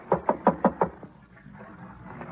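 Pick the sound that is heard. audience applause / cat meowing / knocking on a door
knocking on a door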